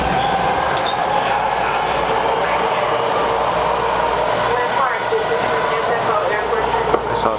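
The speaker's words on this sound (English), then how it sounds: "there's another train taking off from the platform" A 10-car BART train departs a Glen Park station platform, its steady rumble and rail noise filling the underground station continuously, heard from the rear car of another waiting train.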